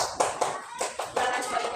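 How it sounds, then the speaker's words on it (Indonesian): A small group of students claps briskly for under two seconds, a quick run of close, uneven hand claps. "tepuk tangan untuk kelompok B"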